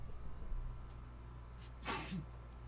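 A single quick sneeze bursts out near the end against a quiet, faintly humming background, preceded by a brief sharp intake of breath.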